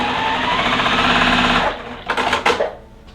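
A sewing machine stitches two quilt fabric squares together, running steadily and loudly for under two seconds before stopping, followed by a few short handling clatters.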